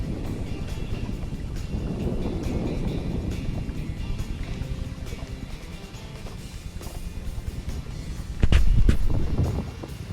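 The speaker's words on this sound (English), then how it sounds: "A little windy out here this morning" A northeast wind of about 12 to 15 blows on a cold morning over open backwater, roaring against the microphone in continuous gusts, with a sharper, louder buffet near the end.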